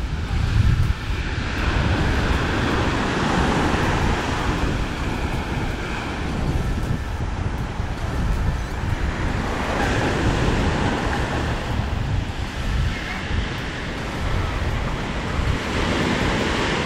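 Surf rolls onto a beach in the Cancun hotel zone, a steady loud wash of waves mixed with wind buffeting the microphone, with no talking.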